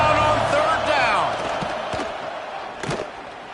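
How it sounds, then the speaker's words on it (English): A packed stadium crowd at a Missouri vs Florida college football game roars loudly on third down, a broad sustained wall of noise that gradually eases, with a commentator speaking over it. "This crowd unhinged, trying to make sure the Gators don't back down on 3rd down."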